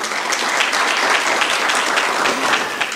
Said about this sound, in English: Another round of applause for the Secretary,